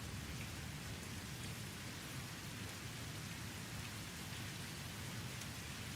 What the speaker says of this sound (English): I'm just working in the rain.